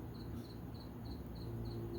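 Crickets chirp steadily at night in a residential neighborhood on a Saturday night, a regular pulsing trill over a constant low rumble of distant traffic and car mufflers, with no talking.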